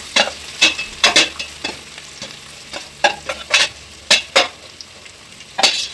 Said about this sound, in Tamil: நல்லா இஞ்சி பூண்டு சாந்து நல்லா அந்த பச்சை வாசனை போகிற அளவுக்கு வதக்கணும்